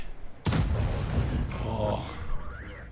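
SU-130M tank destroyer firing its main gun in World of Tanks on the Malinovka map, a single sharp loud blast followed by a long rolling echo and fading mechanical whine.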